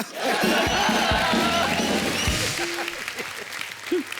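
Studio audience applause on a celebrity talk show, a dense burst of clapping that fades out as music and voices mix underneath.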